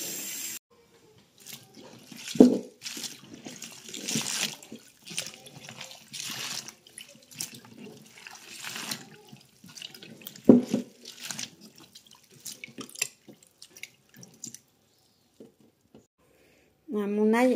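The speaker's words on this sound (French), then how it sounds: "Je vais remplir d'eau à ras-bord, mélanger un petit coup et après je vais laisser décanter" Tap water running into a container to wash freshly harvested garlic from a vegetable garden, splashing and pouring in bursts beneath someone speaking French.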